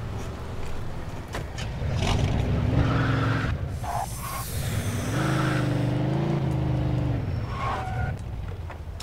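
A taxi car drives in the video game Mafia 2, its engine droning steadily with rising and falling revs and a brief tire-skid screech midway, loud and continuous for the whole stretch.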